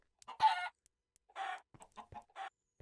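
Minecraft chickens cluck in a video game, a few short separate clucks with quiet gaps between them, close and clear with no talk.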